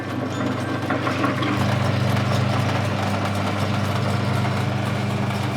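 A sugarcane juicer machine runs with a steady, loud motor hum and low vibration throughout, without pauses.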